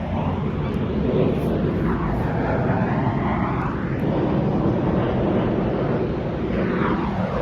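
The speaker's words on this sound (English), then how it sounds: "Got these planes coming over out here." Airplanes pass overhead outdoors, giving a steady, loud, broad roar that swells and fades slightly over several seconds with no break.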